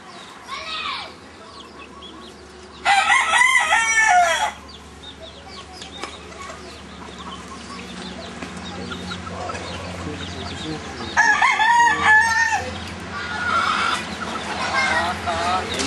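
Hens cluck and squawk nearby in short bursts, with wing flapping and a voice talking over the farmyard noise.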